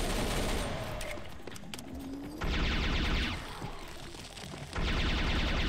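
Rapid gunfire from a first-person shooter, Serious Sam 3: BFE, comes in dense sustained bursts, loud and close, with brief lulls between volleys.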